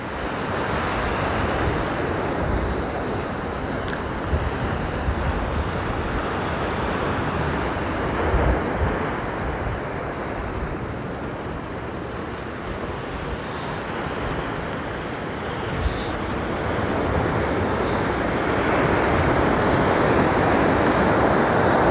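Ocean waves roll onto the beach at Pacifica on an evening outing, a steady broad surf roar that holds for the whole stretch, mixed with wind buffeting the microphone and no talking.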